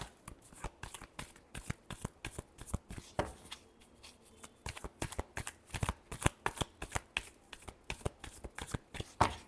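Tarot cards being shuffled by hand in quick, rhythmic bursts of papery riffling and slapping, close and fairly loud, with short pauses between runs and no talking.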